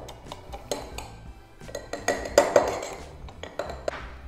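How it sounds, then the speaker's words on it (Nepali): Mint, lemon juice and sugar syrup for a virgin mojito being muddled in a glass, heard as a run of irregular clinks and knocks of the muddler, close and fairly quiet, with no voices. "अब यो सबै इन्ग्रेडियन्टलाई म मडल गर्न जाँदैछु"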